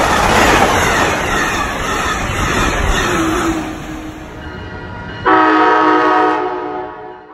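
Siemens ALC-42 Charger diesel locomotive passing loudly with a roaring rumble, then its horn sounds a strong, sustained blast toward the end as the engine noise fades.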